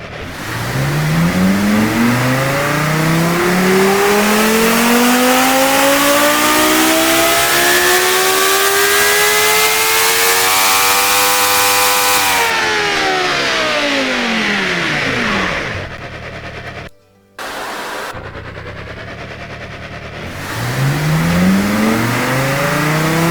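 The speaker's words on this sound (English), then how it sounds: "so we're going to do 2 dyno pulls, one looking at the engine and one looking at the graph" A 2-litre, 2400-horsepower turbocharged engine on a dyno pull in the Automation car tycoon game revs hard and climbs steadily for over ten seconds, then drops sharply, cuts out briefly, and builds again, loud and continuous.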